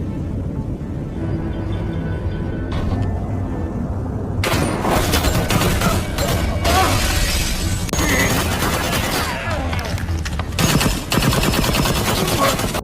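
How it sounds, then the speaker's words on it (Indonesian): Heavy gunfire erupts in an action film shootout at a warehouse, dense automatic bursts and rapid shots that swell loud after a tense, quieter opening and continue almost unbroken with brief gaps. "para anak buah Tom yang lain langsung mendatangi gudang tersebut, sehingga baku tembak sengit tidak dapat lagi dihindari."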